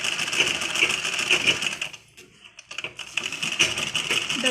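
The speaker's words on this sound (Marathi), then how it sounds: "तर ह्याला आपण राऊंड शिलाई मारून घेऊया. पूर्ण राऊंडमध्ये शिलाई मारून घेऊया." A sewing machine stitches a round seam on a fabric latkan for a blouse, a rapid close mechanical rattle that stops for about a second midway, then resumes at the same pace.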